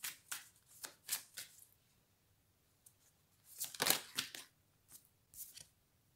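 Playing cards are shuffled in several short, crisp riffling bursts with quiet pauses between them, close and fairly soft, with no talking.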